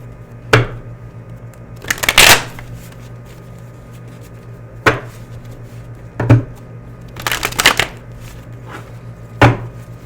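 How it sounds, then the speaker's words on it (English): Tarot cards being shuffled by hand in a few separate bursts of crisp riffling and snapping, with quiet pauses between them over a steady low hum; no one speaks. "Bear with me as I shuffle."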